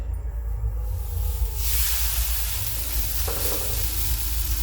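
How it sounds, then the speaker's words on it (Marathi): Pumpkin thalipeeth dough pressed onto a hot griddle gives a steady broadband hiss and sizzle, close and continuous, growing brighter partway through, with no talk. "तवा गरम झालेला आहे आता आपलं थालीपीठ थापलेलं आहे ते टाकून देऊ"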